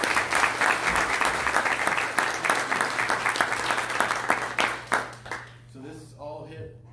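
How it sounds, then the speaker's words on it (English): Audience applause at a chapter meeting: dense, steady clapping from a room full of people that thins out and fades, leaving a voice starting to speak at the end. "If we can give both Brett and Stephanie a round of applause"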